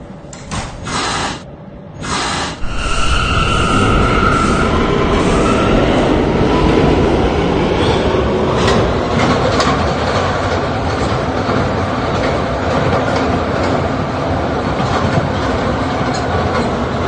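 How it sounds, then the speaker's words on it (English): An R179 K subway train bound for World Trade Center runs loud and steady from up close, rumbling with clickety-clack rail rhythm after a few brief door-like bursts at the start. "This is a World Trade Center bound K train."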